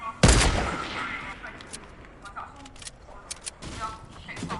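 Gunfire in the Fortnite video game opens with a loud burst, followed by scattered, quicker shots and crackles at varying distances, with faint game chatter underneath.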